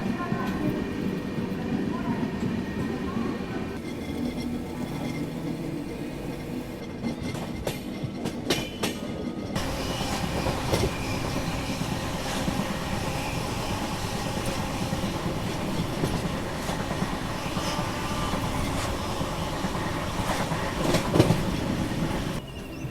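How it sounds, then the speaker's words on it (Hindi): The Indore Daund Express rolls into Karjat railway station with loud, continuous wheel and carriage rumble, rhythmic clatter and occasional metallic squeal, close by and steady throughout. "बाकी अभी अपनी ट्रेन का अराइवल हो रहा है करजत रेलवे स्टेशन पे"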